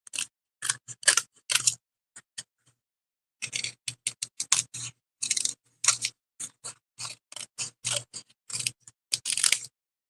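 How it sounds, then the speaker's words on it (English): Scissors cut a wreath shape out of cardstock in quick, close clusters of crisp snips, with short pauses between bursts and no voices. "So we're going to cut this wreath out."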